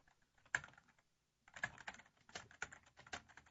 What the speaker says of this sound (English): You can talk while I'm typing.